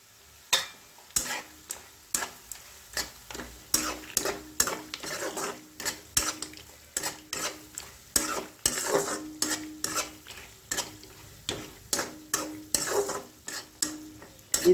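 Onions and vadiyalu frying in oil in a pan, a steady sizzle broken by repeated rhythmic scrapes and knocks of a spoon stirring against the metal, close and fairly loud with no talk.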